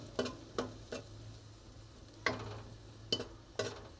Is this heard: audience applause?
no